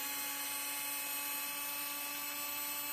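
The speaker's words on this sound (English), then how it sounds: "They finally give me an electric screwdriver. Works pretty good." Electric screwdriver whirring steadily while backing screws out of a TRX4 Ford F-150 High Trail RC truck, a continuous close motor whine with no talking.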